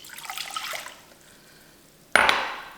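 Water runs and pours into a cup for an egg-pickling brine, a short splashing stream that fades, a pause, then a sharper louder gush near the end, with no talking.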